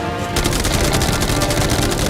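Rapid, loud automatic gunfire bursts without pause from a video game in which attackers fire on a yacht, forming a dense continuous fusillade after a brief quieter start.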